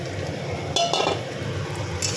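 Potatoes and cauliflower stir-fried in a pan with spice masala for a potato, cauliflower and paneer curry, giving a light metallic clinking of a utensil against the pan, with a brief louder scrape in the middle and a low frying bed.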